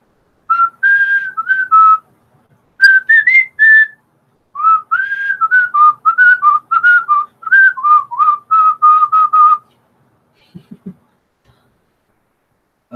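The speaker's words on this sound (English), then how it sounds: "I'll give props to anybody who can figure out what I just whistled there." A person whistles a melodic tune in several phrases of clear, bright notes, with short pauses between them, then stops.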